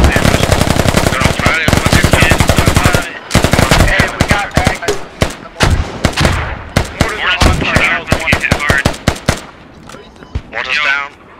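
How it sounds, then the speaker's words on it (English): Heavy automatic gunfire and explosive mortar impacts in the military shooter game Squad, loud dense bursts of rapid shots with sharp booms, thinning into scattered shots and blasts with voices faintly mixed in. "Roger that, got fucking mortars coming in now."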